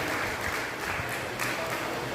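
Sustained, dense applause from an audience at a Hindi poetry gathering (kavi sammelan) honouring guests in Sitapur, steady and fairly loud throughout with no voices over it.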